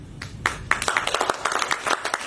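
Audience applause at a speech in a JNU hall in Delhi, a crowd of hands clapping in a dense, steady patter that swells after a few scattered early claps and carries on throughout, with no voices over it.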